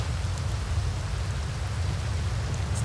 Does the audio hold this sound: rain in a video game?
yes